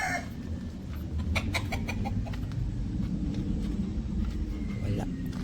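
Hens of breeder chickens on a farm make soft, scattered clucks among the nests over a dense, steady background of farm noise, with someone talking briefly.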